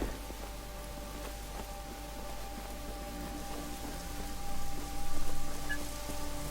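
Steady patter of rain in Just Cause 3, a broad even hiss with scattered droplet ticks, fairly faint under a constant low hum and musical tones, swelling slightly near the end.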